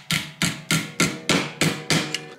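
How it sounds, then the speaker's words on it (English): Seven sharp hammer strikes fold a metal tab down on a battery module built from EVE 280Ah LiFePO4 cells, landing at a steady, even rhythm up close with nothing else heard between blows. "I'm folding over this tab here and hammering it down."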